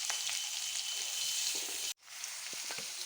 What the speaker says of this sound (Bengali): একটু লাল করে ভেজে নেব আলুটাকে।